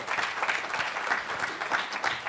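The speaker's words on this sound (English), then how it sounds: "Can we give him another round of applause" Applause from the audience at a student athlete summit: steady, full clapping from a large crowd that continues without a break for the whole stretch.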